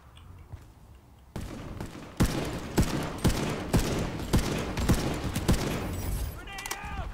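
Rapid gunfire rings out in the Planetside Arena battle royale game, a string of sharp, evenly spaced shots close by, followed by brief electronic chirps, with someone talking faintly underneath.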